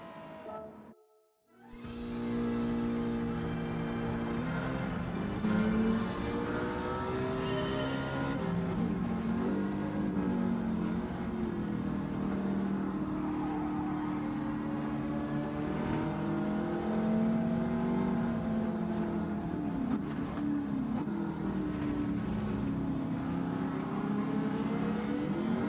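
A racing Mustang with a sequential gearbox in the Gran Turismo 7 video game revs hard after a brief drop, its engine note climbing and falling through gear shifts in a loud, steady, close-up drone.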